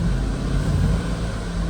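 A car engine in a project build with replaced idle-control parts gives a close, steady low rumble for a brief stretch, with no clear rise in pitch and no voices.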